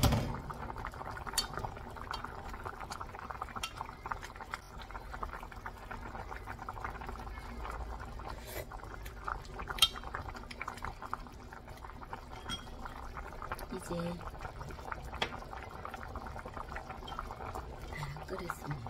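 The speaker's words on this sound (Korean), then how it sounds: "보글보글보글 잘 끓으십니다." A pot of seafood soft-tofu stew bubbling steadily at a low simmer, soft continuous gurgling with small pops, close by and moderately quiet.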